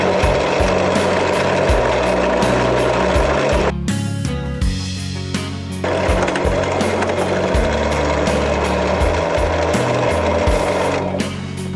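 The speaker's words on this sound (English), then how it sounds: "drill a hole through that one, drill a new hole through there" A power drill bores a new hole through a quick-release seat bracket on a Honda CBR1000F motorcycle. It gives a loud, continuous whirring grind that pauses briefly partway through, then resumes; no one talks.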